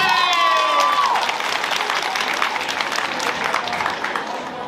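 A school freshman ball crowd at Colegiul Național Ștefan cel Mare Hârlău claps and cheers loudly for contestant Andrea. Dense, close applause mixes with shouts, and a brief tonal squeal rides on top at the start.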